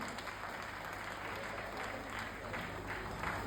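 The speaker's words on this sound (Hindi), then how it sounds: "ताली बजाते रहोगे तो मैं कम बोलूंगा" An audience at a Hindi-language award and event gathering applauds steadily, a dense continuous patter of clapping that holds at an even level throughout, heard at a moderate distance with no voice over it.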